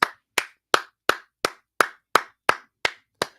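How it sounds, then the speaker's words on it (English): Ten sharp, evenly spaced hand claps ring out one at a time from a single person, close and crisp with silence between each. "Everybody just clap. Clap. Clap, clap."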